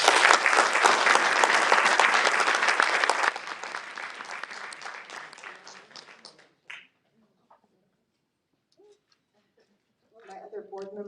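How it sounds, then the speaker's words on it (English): A loud burst of audience applause at an awards reception fills the first few seconds, then thins and fades out. A voice speaks briefly afterwards. "A little round of applause for Paulette."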